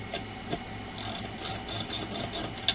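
Repeated ratcheting clicks in short bursts as a screw is driven down on the plastic protector of a 2000 watt pure sine wave inverter, close by with no talk.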